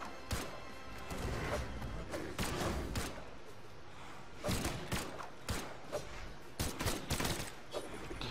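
Rapid bursts of pistol fire and impact thuds crack out in the Brawlhalla platform fighting video game, dense and loud, with sharp shots clustered near the end.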